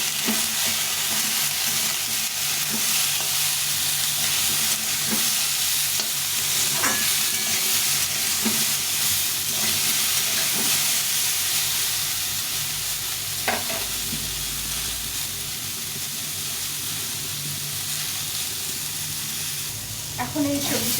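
Leafy greens fry in a pan with salt and turmeric, a constant loud sizzle broken now and then by scraping stirs over a long stretch, heard up close with no talking.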